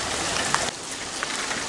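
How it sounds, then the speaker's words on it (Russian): Steady rain in Georgia hisses heavily and continuously, with a few louder drops standing out, close and fairly loud. "дождь нас заливает, вот такой."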